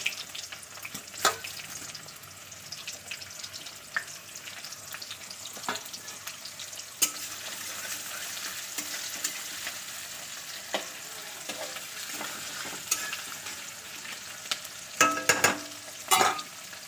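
Cumin, onion and bay leaves frying in oil for a meat masala, a continuous close sizzle with scattered sharp crackles and spatula scrapes, louder bursts of popping near the end, no talk.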